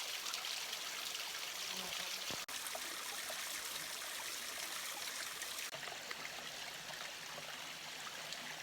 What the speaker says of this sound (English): We got a nice running stream.